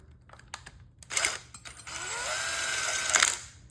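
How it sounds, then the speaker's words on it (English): A power drill bores through the plastic of a Nerf Retaliator blaster's air restrictor, starting with short bursts and then settling into a sustained whirring grind before stopping, close and clear. "drilling to get some of the plastic garbage out just like that"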